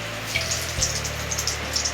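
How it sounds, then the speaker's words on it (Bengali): Bay leaves dropped into hot oil left from frying potatoes for a chicken curry, giving a steady, close crackling sizzle with sharp little pops and no talking. "এরপর এই তেলের মধ্যে আমি তেজপাতা ফোড়ন দেব"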